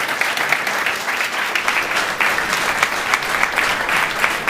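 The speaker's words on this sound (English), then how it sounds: "Let's give them a round of applause." Audience applause at a food fraud event, steady dense clapping from a sizeable crowd sustained throughout at a loud, even level with no speech over it.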